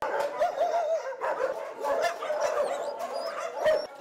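Several dogs at an animal shelter bark and yip in a busy, overlapping chorus, with sharp barks repeating close by throughout.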